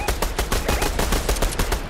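Rapid bursts of fire-rifle shots in a video game shootout, a loud, steady stream of close gunfire cracks in quick succession with no voices over it.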